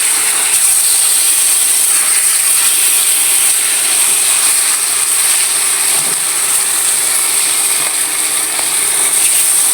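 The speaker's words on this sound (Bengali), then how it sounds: "এখন আমি কই মাছটা ভেজে নিব" Koi fish fries in hot oil, giving a loud, unbroken sizzling hiss that holds steady from start to finish with no voices.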